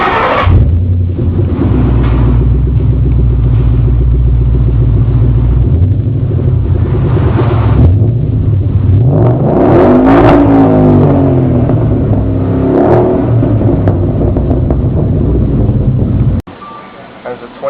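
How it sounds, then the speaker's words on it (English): A 2011 Ford Mustang GT V8 with a Magnaflow catback exhaust rumbles and revs loudly and close by, with a steady deep drone broken by rising revs near the middle, then cuts off abruptly near the end. "I have the 2011 Mustang GT with Magnaflow catback exhaust."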